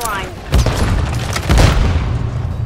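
Grenade blast in a shooter video game's search and destroy match, two heavy booming thuds about a second apart, loud and close, with a voice briefly talking.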